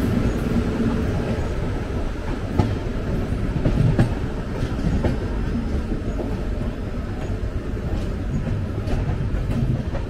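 The Jan Shatabdi Express from Howrah to Bhubaneswar crosses the Rupnarayan bridge, a loud, steady rolling rumble with recurring wheel clicks from on board.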